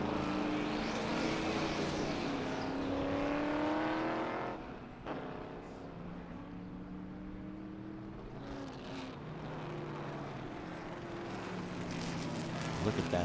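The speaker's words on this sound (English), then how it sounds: "The sound, ladies and gentlemen, that these cars are making so difficult to drive." Race cars, including a Peter Gregg car, roar past at Sebring during a SpeedTour event, with loud sustained engines and rising and falling harmonic whines throughout, a brief dip midway, and a commentator speaking over the racing noise.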